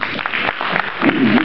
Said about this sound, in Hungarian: tapsoljuk meg Rózsát.